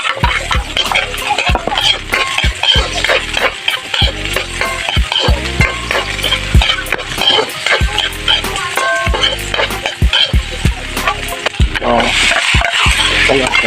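Vegetables sizzling in a hot pan with chorizo while being stirred: loud, close frying hiss with frequent scraping and clacking strokes of the utensil against the pan, continuing steadily throughout.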